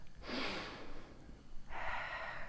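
Slow yoga breathing: one long, audible inhale followed by a pause, then a steady exhale, close and soft with no talk over it.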